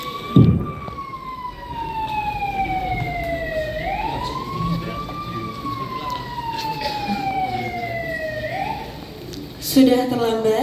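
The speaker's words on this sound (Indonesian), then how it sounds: "terdengar sirene polisi di depan bar." A police car siren wails outside a bar during a Christmas drama performance, rising and falling in long, slow sweeps that stay loud and prominent throughout, with brief noises at the start and end.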